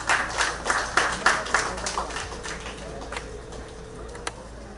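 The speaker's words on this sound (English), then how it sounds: "Would we bring him on with a round of applause?" An outdoor audience at a street-renaming ceremony claps to welcome the president of the Greater San Fernando Area Chamber of Commerce, a brief scattered burst that fades within a few seconds.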